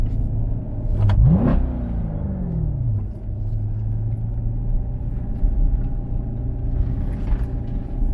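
A Corvette C7 Grand Sport's engine blips once in a sharp, loud rev that climbs and falls back within about two seconds, then settles into a steady, deep idle rumble heard up close.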